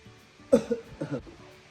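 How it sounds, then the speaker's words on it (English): A person gives a single short cough, followed by a couple of softer throat-clearing rasps, close and quiet. "I want you to cough."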